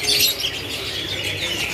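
Caged canaries at a bird market kiosk chirp and twitter in a busy, overlapping chorus, bright trills and tweets close by with some fluttering, heard without any talking.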